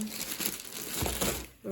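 A plastic bag crinkles and rustles continuously near the microphone while people talk quietly over it at home during the unpacking of a parcel.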